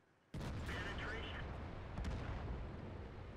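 Artillery fire in World of Tanks: a sudden loud blast, then a dense rumbling barrage of booms and crackling impacts that keeps going, with voices faintly mixed in.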